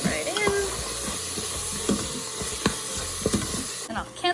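Taco seasoning is stirred into meat in a pressure cooker pot, with close scraping stirs and light clinks over a soft sizzling hiss, and a brief voice near the end.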